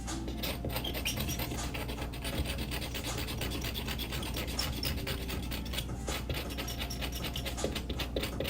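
A carving tool scrapes and shaves wood at the base of a dandelion bas-relief wall panel, a continuous close rasping texture with many small repeated strokes and no talking.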